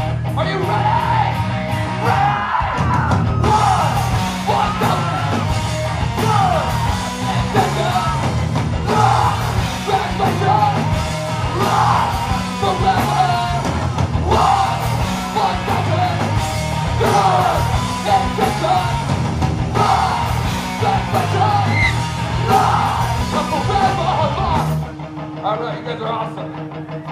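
A live rock concert crowd yelling and cheering over loud band music, a dense roar that runs almost throughout before dropping away near the end.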